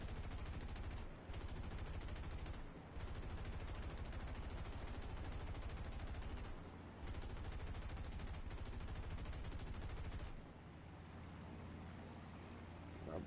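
Enemy gunfire rattles almost nonstop in a War Thunder air battle, dense bursts of automatic fire and engine drone filling the mix, dropping briefly before a quieter stretch at the end.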